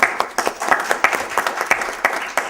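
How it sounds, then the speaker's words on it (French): Steady audience applause, many hands clapping together with a loose rhythmic pulse, continuous and fairly loud for the whole stretch. "je vous remercierai de les applaudir pour leur entrée"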